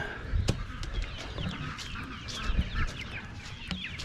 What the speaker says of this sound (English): There's some chickens in here.